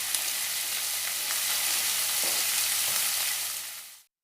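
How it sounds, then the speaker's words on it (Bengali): Brinjal pieces fry with onion and green chilli in a pan, a loud continuous sizzle with a few scraping stirs, fading out at the end. "এবারে বেগুনগুলো নাড়াচাড়া করে ওতে নুন হলুদ দিয়ে দেবো।"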